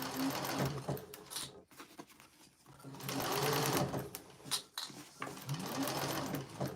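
Sewing machine stitching in bursts during a bag binding and finishing session, a rapid mechanical whir that starts, stops and restarts several times with brief quiet gaps between runs.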